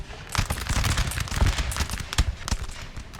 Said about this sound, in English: Got bullets bouncing off buildings.